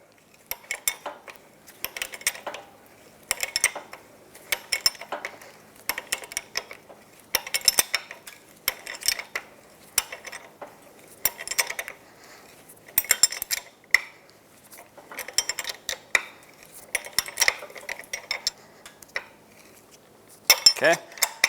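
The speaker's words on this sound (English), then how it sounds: "You're going to want to use an 18mm wrench, put that on the nut" An 18mm wrench works the nut on a Ford F-150 front shock absorber, producing repeated short metallic ratcheting clicks in regular bursts, close and fairly crisp, with brief pauses between strokes.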